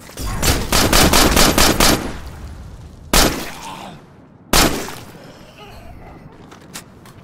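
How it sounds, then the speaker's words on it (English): Rapid gunfire from shooting at enemies in the video game State of Decay: a loud automatic burst, then two sharp single shots spaced apart, with faint voices in the background. "We just try to shoot them before they do."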